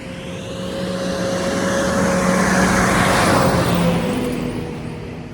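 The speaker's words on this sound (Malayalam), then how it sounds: "ബസ് വരുന്നുണ്ട്." On a road near Poombarai, a bus approaches and passes close by, its engine and tyre roar swelling to a loud peak mid-pass and then fading, with a steady engine tone throughout.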